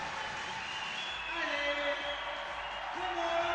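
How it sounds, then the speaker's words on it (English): A crowd at an IFSC Bouldering World Cup final in Navi Mumbai claps and cheers as a climber moves up the wall, with a steady wash of clapping under a commentator's voice. "You see the crowd clapping."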